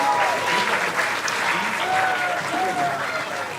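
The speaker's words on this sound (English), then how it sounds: "Can we give all of these scholars a round of applause" A crowd at a school gathering applauds students who scored in the 90th percentile or higher, a steady, dense wash of clapping that stays loud throughout, with a voice faintly audible beneath it.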